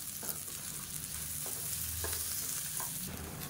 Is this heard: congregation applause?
no